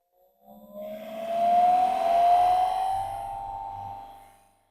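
Polishing wheel buffing an acetate eyeglass frame makes a brief whirring hum that swells as the frame meets the wheel, holds with a bright tonal whine, then fades out, alone and close.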